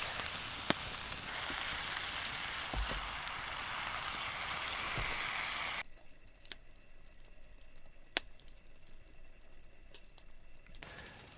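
Mushrooms simmering in demi-glace over a fire at a winter tarp shelter, a steady close sizzle and bubble for several seconds, then quieter with scattered pops and crackles.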